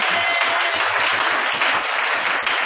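A church congregation applauds in praise of Jesus with a steady, loud wash of many hands clapping together, dense and continuous for a few seconds.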